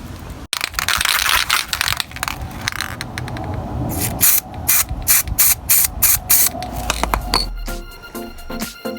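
High-build primer is sprayed onto a car front wing during rust repair, a steady hissing spray gun with short breaks and clicking, close and fairly loud throughout.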